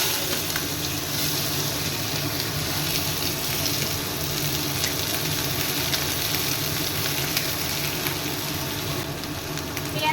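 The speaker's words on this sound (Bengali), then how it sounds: "এবার আঁচটাকে বাড়িয়ে দেবো, বাড়িয়ে দিয়ে ভালো করে লাল লাল করে ভেজে দেবো" Onions frying over high heat in a pan, a loud, continuous close sizzle with a steady hiss that never lets up, heard alone without talk.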